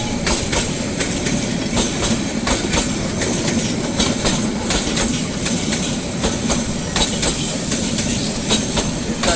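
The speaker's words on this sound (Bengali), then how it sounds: "এই যে তিস্তা ট্রেন ছেড়ে চলে যাচ্ছে।" The Tista passenger train pulls out of Jamalpur station, a loud continuous rumble with rhythmic clickety-clack of wheels over rail joints and occasional squeals, heard close with no voices.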